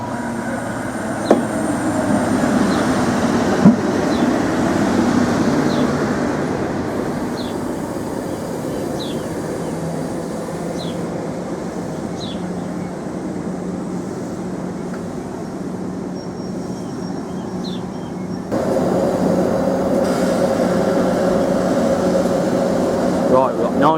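Greater Anglia Class 90 locomotive 90002 hauling a Mark III passenger set, rumbling steadily past at close range with a continuous low drone and occasional higher squeals, swelling louder toward the end.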